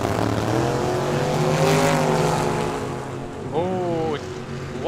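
Drag racing vehicles at Tucson Dragway roar loudly with a strong, sustained engine drone that swells and fades, with a second engine note rising near the end as a track announcer talks over it.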